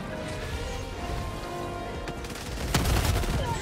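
Rapid sustained gunfire aimed at a charger in Helldivers, dense overlapping shots and blasts, loud and close, swelling into heavier impacts near the end.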